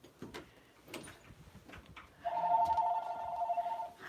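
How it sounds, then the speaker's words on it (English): A telephone bell rings indoors in one sustained electronic trill of under two seconds, loud and near, after quieter household clatter. "The phone is ringing."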